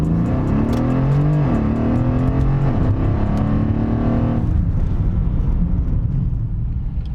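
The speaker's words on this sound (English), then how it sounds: "the way it just instantly just rips right off the line whenever you want it" A 4-door Mercedes sports sedan launches off the line, its engine revving loudly up through rising pitch sweeps and a quick gear change before easing into a steady roar, heard close from inside.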